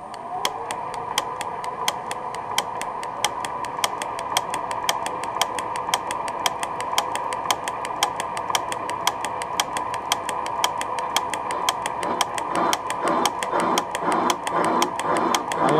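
A metal milling machine fitted with a rotary table cuts steadily, producing a dense, rapid ticking of the cutter over a constant mechanical whir. The sound grows slightly rougher toward the end.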